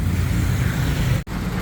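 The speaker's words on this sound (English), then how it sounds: "And here's the old school garbage truck." An old-style garbage truck on a busy Bangkok street, heard as a steady, loud low engine rumble amid traffic noise, with a brief dropout near the end.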